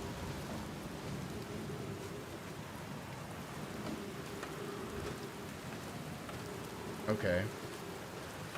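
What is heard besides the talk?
rain and thunder in stormy location, Outer Wilds video game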